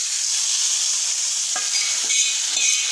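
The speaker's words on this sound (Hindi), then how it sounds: "तो अब हम तड़के को डाल देंगे इसमें" Hot tadka tempering hits kadhi in the pot with a loud, continuous sizzle and hiss, with a few brief clinks of stirring and no voices.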